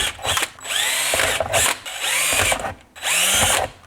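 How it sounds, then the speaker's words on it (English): A power drill with a 1/8 inch bit bores mounting holes for a Garmin GPS on a Ski-Doo Rev Gen 5 snowmobile, three separate whining bursts that rise and fall in pitch with short pauses between, loud and close. "Now we're going to use a 1/8 bit just to drill out the holes that we're going to use to mount the clip."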